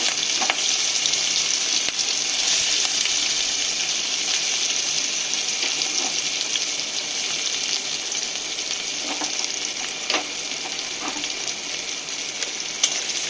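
Chopped onion and green chili fry steadily in hot oil, a loud, dense sizzle with crackling pops and occasional stirring scrapes throughout, no voices.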